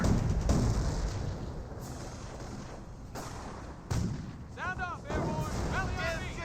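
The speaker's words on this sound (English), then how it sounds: "Bridge strafing run there." Aircraft strafing run over a bridge in the video game Company of Heroes, a loud roaring rumble with bursts of gunfire and impacts.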